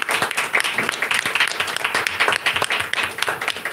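A crowd applauds a performer at a music show with steady, dense clapping throughout, fairly close and lively.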